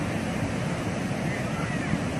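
Pacific Ocean waves roar in a dense, unbroken wash of surf, loud and steady throughout with no voices.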